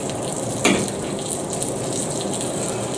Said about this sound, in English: And the egg will get one more wee flip.